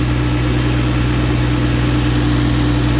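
An ISEKI TU160 Japanese compact tractor engine idles steadily with a loud, even low rumble and constant vibration, unchanging throughout.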